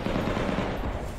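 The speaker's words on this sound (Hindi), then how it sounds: "वहां शहर के भीतर हर तरफ बमों के धमाके और गोलियों की तड़तड़ाहट सुनाई दी।" Gunfire crackles through a city during the Russia-Ukraine war, with Russian forces and Chechen fighters clashing; dense, rapid bursts of shots sound close and loud, running continuously across the short clip with no speech.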